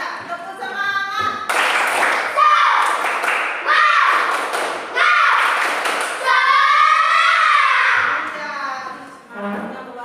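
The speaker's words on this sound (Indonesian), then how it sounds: "kita tepuk semangat dulu ya. 1, 2, 3. Tepuk semangat." A classroom of young pupils performs a rhythmic group clapping chant, bursts of claps interleaved with children's voices chanting in unison, close and lively.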